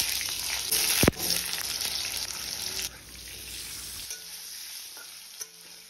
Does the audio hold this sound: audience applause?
no